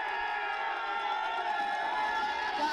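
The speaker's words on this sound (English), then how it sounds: "crowd goes wild!" A crowd at a World Poker Tour final table erupts in sustained cheering and shouting as a one-outer on the river wins the championship, a dense, continuous roar of voices.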